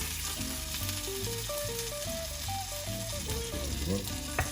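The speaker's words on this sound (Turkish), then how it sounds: "bu ekmeklerimi teker teker kızartacağım" Olive oil sizzles and crackles steadily as bread fries in a pan, with a simple melody playing in the background throughout.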